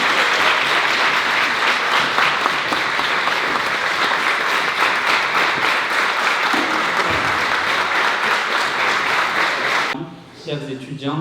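Sustained audience applause fills an amphitheatre lecture hall at Sciences Po, welcoming UFC and Ares MMA fighters, dense and loud for about ten seconds before cutting off abruptly as a voice begins speaking.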